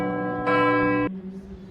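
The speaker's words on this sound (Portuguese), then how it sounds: "Esses sinos maravilhosos." A church bell at the Sanctuary of Fátima rings loudly with rich, sustained overtones, one strike swelling and then fading into a lingering hum.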